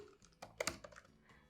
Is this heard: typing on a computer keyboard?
yes